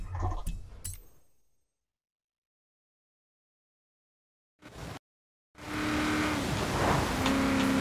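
A race car in the game Forza Horizon 4 roars in loudly after a quiet gap, its engine holding a steady high drone near the end, preceded by a short burst of sound and brief clinks at the start.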